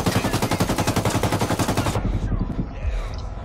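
Rapid automatic gunfire in the video game Ghost Recon Wildlands, a loud, dense machine-gun burst for about two seconds, then cutting to a rumbling lower echo.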